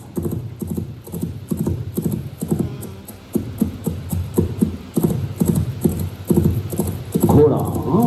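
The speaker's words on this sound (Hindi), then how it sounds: "घोड़ा दौड़ने की आवाज।" Foley for a galloping horse, made for a film: a loud, rapid rhythmic clip-clop of hooves repeats steadily and closely, ending with a brief whinny-like sound at the end.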